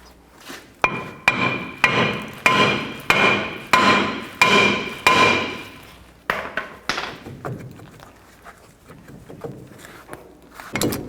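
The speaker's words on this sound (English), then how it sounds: "If it's stuck on there, you can take a hammer and hit in these locations." A hammer strikes a stuck brake rotor on a Chevy Silverado 2500 repeatedly, about ten sharp ringing blows in a steady rhythm, then a few lighter, irregular knocks and scrapes.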